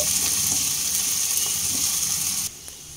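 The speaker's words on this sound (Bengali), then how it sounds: "পেঁয়াজ হালকা ভাজা ভাজা হতে দেব।" Chopped onion frying in hot mustard oil gives a steady, close sizzle that runs alone, then drops sharply quieter near the end.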